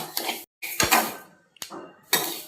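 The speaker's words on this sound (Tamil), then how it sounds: "நம்ம நல்லா வாசனை வர வரைக்கும் வறுத்துக்கலாம்" Sesame seeds dry-roasting in a kadai, with a ladle scraping and rattling against the metal in several short bursts separated by brief pauses.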